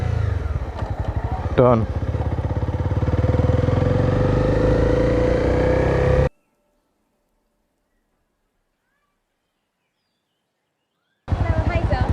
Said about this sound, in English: That was rev matching, but with the clutch still pulled in because I'm still braking